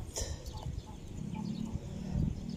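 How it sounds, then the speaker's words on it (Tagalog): A red chicken clucks softly and intermittently nearby, its low calls growing a little louder toward the end. "Manok na pula."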